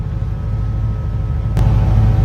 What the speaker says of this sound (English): But you just hear my fuel pump.